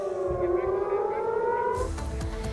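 A wailing air raid siren sounds after drones enter the area, holding a sustained rising tone, then cuts off, leaving muffled thumps and background noise.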